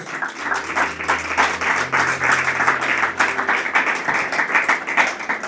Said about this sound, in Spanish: Fuerte el aplauso a nuestro Dios.